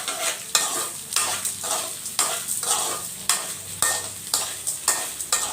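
Thoothuvalai greens (Solanum trilobatum) sizzle with salt in a hot pan while a utensil stirs them in a steady rhythm of scraping strokes, close and loud.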